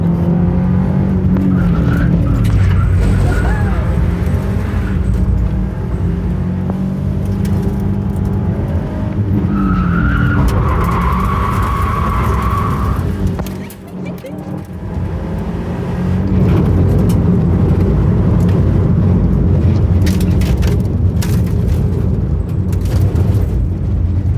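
A 300 hp rally Subaru drifting: a loud engine roars and revs continuously while tyres skid and squeal, with a brief lift in the middle before the car powers on again.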